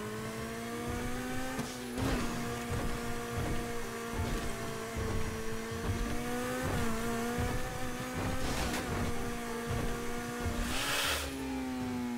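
A car engine in GTA V Online revs and holds a steady high drone, with brief gear-shift dips and a few sharp transient hits, sounding close and moderately loud with no talk.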